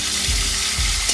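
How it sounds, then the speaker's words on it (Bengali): Pieces of fish sizzling in hot oil in a pan, a loud, steady close-up crackle and hiss with no voices. "মাছগুলো দিয়ে দিলাম আমরা সামান্য এখানে ভেজে নেব।"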